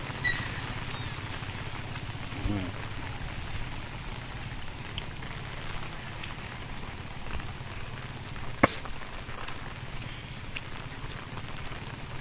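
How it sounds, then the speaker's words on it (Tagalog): Heavy rain falls steadily in a Philippine neighborhood near potted plants, a continuous broadband hiss with a sharp click partway through. "Malakas ang ulan."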